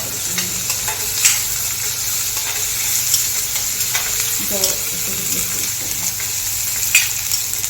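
Chopped onion sautés in a pressure cooker, a steady close sizzle with scraping stir strokes throughout and no talking.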